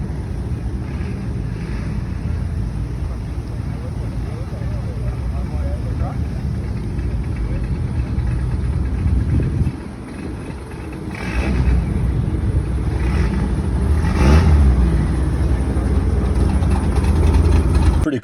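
A Volvo 122S with a Ford 2.3L SOHC turbo engine drones steadily from inside the car, then dips and rises again as the throttle comes back on, with wind noise and a person talking over it.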